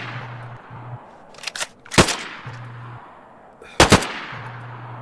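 Gunfire in the video game DayZ, set in Chernarus: three or four sharp, loud single shots cracking out at irregular intervals over a low steady in-game hum.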